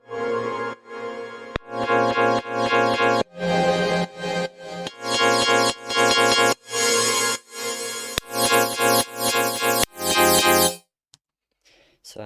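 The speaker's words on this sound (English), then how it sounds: "It's actually multiple synths I made that are from the drop that I just chopped up" Multiple synths taken from a drop are chopped into stuttering segments and filtered as an intro, bursts starting and stopping in a choppy rhythm, loud and alone, ending in near silence.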